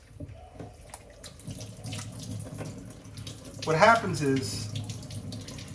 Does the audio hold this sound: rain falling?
no